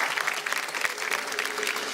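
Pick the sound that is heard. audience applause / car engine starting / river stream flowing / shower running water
audience applause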